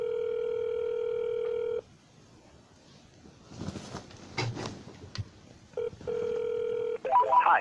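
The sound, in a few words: voicemail recording beep tone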